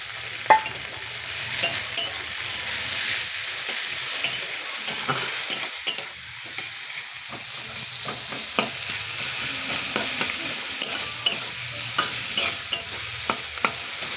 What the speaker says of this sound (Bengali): আমি পেঁয়াজগুলো এবার লাল লাল করে ভেজে নিয়ে মাংসটা কষে নেবো এতে